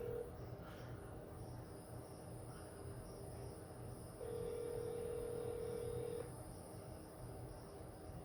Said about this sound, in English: they take forever to answer the phone, Steuben